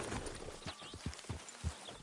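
Horse hooves clip-clop at a steady walking pace in Red Dead Redemption 2, a string of soft, evenly spaced thuds close by over a quiet game ambience.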